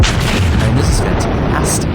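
South Carolina battleships trade naval gunfire in a World of Warships battle, dense rumbling booms and blasts running continuously at close range, loud throughout.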